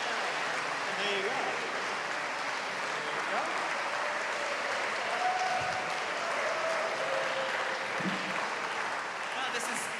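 Steady, dense applause fills an awards ceremony hall, a large audience clapping continuously at even loudness for the whole stretch.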